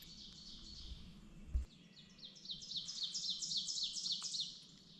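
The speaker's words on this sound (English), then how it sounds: "So it seems like the birds we're hearing right now is an oven bird." Outdoor bird song with an ovenbird, red-bellied woodpecker, wood thrush and red-eyed vireo: repeated bright chirping phrases building in a steady rhythm, moderately close, over low background rumble, with a couple of soft thumps early on.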